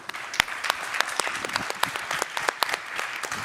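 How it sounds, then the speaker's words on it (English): Audience members at an anti-corruption conference plenary applaud steadily, a moderate, continuous patter of many hands with a few sharper nearby claps popping out. "I love that we are applauding for every one of you."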